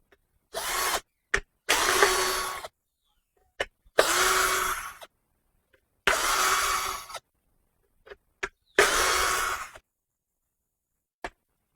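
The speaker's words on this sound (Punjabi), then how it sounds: "ਟੱਕਣ ਦੇ ਵਿੱਚ ਚਾਰ ਨਾਟ ਲੱਗੇ ਹੋਏ ਆ ਚਾਰਾਂ ਨੂੰ ਆਪਾਂ ਖੋਲ ਲੈਣਾ" A small power driver or drill loosening four nuts on the lid of an electric spice chopper, in a series of short whirring bursts separated by silences and faint clicks.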